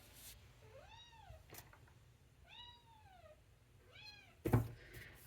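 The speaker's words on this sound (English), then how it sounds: "My poor cat. She wants so much attention right now." A cat meows three times for attention, clear rising-falling cries spaced about 1.5 seconds apart in a quiet indoor room, followed by a brief knock or bump near the end.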